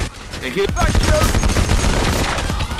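Gunfire in the Payday The Heist video game, rapid crackling volleys of shots building into a dense, loud barrage, with game voices briefly audible near the start.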